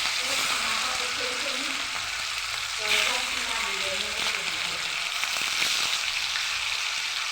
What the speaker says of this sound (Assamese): এতিয়া মই মাছ কটা ভাজি ল'লোঁ।